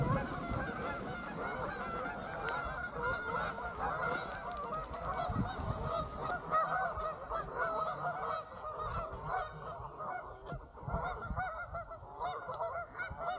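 Geese honk repeatedly in overlapping bursts at a lakeside park near a campground beach in Iowa's Backbone State Park, moderately close and continuous with no talking.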